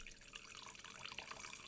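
Boxed French red wine pouring into a glass, a steady close liquid stream with bright splashy trickle running unbroken for under two seconds, no voices.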